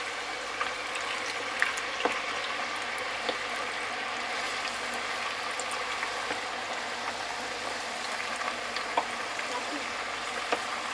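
Potatoes frying in a pan or fryer over very high heat, a steady, even sizzle with small crackles and pops, continuous and fairly close.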